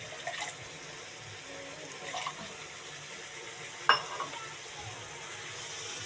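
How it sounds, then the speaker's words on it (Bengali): Chili, cumin and mustard paste frying in a pan, a soft continuous sizzle with a few brief clatters of stirring, one sharper knock partway through. "তো এই লঙ্কা জিরে বাটাটা একটু ভেজে নিই"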